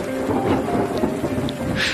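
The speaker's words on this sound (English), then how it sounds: "Then the rain tumbles down." Heavy rain pouring down in a thunderstorm, a dense continuous hiss with a rumbling thunder layer, loud and close throughout with no voices.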